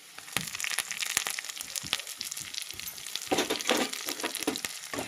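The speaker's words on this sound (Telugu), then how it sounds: "బాండీలో ఉల్లిపాయ ముక్కలను, పచ్చిమిర్చి, టమాటా ముక్కలు అయితే అలానే కరివేపాకు కూడా వేసేసుకుందాం" Onion, green chilli, tomato and curry leaves frying in a wok-style pan, a steady crackling sizzle with scraping stirs and crunchy clatter, louder bursts near the end, no talking.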